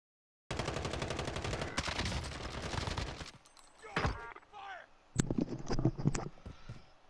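Rapid automatic fire from a CR-56 AMAX rifle in Call of Duty Warzone, a dense, loud stream of close shots for a few seconds, then scattered bursts mixed with game sounds and a player talking.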